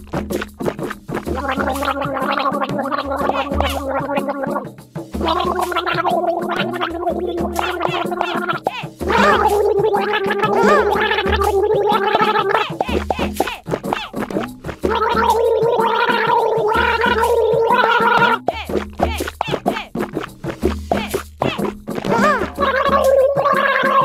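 Gargling of water after brushing teeth, in a children's bath time and teeth-brushing game, heard as bubbling bursts set against steady upbeat music with a singing voice throughout.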